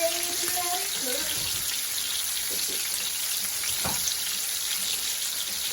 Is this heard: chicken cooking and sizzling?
yes